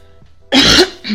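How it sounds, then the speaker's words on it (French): A single close, harsh cough, followed by a shorter second burst. "quand je tousse, j'espère que ça ne vous casse pas les oreilles"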